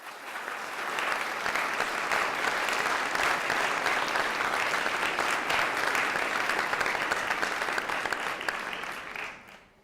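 Sustained applause from a seated audience at a business school commencement ceremony, honoring doctoral-level Beta Gamma Sigma inductees; steady even clapping of a large crowd that builds quickly, holds for several seconds, then tapers off at the end.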